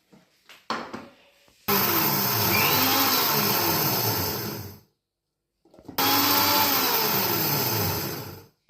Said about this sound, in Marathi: आता थोडंसं जाड भरडं आपण काढून घेऊ मिक्सरच्या भांड्यात.